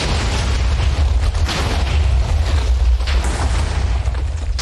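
Several atom bomb detonations go off in quick succession in a video game, a continuous loud, rumbling wall of blasts with heavy low-end booms and crackling bursts throughout, no talking over it.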